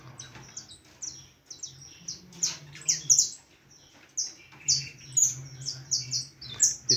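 Canaries chirping and trilling in a breeding aviary, many birds calling near and loud in rapid overlapping bursts, with lower chatter underneath throughout.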